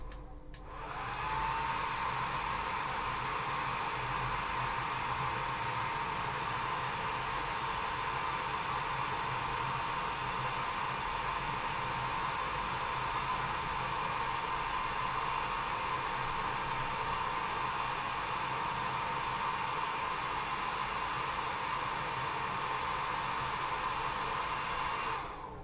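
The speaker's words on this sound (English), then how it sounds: "Got to blow dry that." A hair dryer blowing hard to dry a coat of hairspray on a scale model, a loud, steady whooshing roar that starts abruptly and holds unchanged for the whole stretch with no voices.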